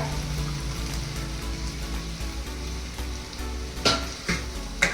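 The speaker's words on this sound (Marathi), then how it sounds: "यामध्ये आपण ही जी शिमला मिरच थोडी ठेवलेली आहे ती टाकूया" Capsicum frying in hot pav bhaji masala in a pan, a continuous close sizzle broken by a few sharp stirring scrapes and clacks, with no talking.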